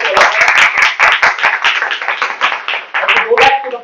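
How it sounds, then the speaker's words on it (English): Members at a Toastmasters club session clap together, a loud, close burst of uneven hand claps with voices talking over and between them. "Let's give a round of applause to all of us."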